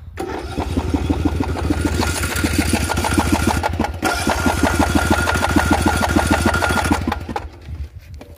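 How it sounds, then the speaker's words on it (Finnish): A lawn mower engine running out of petrol sputters and runs unevenly with rapid pulsing chugs, close and loud, then cuts out abruptly near the end. "Mutta katsokaa mitä ruohonleikkuri sanoo."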